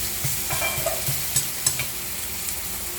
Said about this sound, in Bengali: এখন পেঁয়াজটা বাজাও